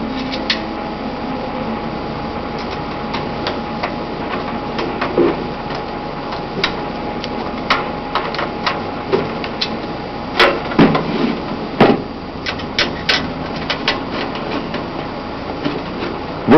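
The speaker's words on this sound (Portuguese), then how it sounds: "Agora vamos colocar o segundo parafuso aqui do outro lado." A screw being driven into the floppy drive bay of a computer case, heard as faint close metallic ticks and scrapes scattered over steady fan-like hum, with a few sharper clicks.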